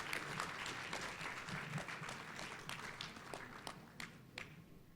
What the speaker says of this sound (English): everybody can give a round of applause